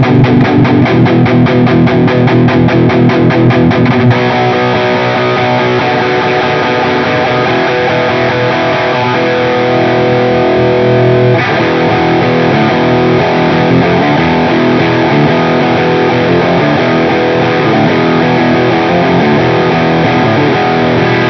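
Electric guitar played through a VARVAR Velez distortion pedal by HardSound with the gain at maximum: loud, dense, saturated chords ring out continuously with a fast strummed stretch at the start, with no talking.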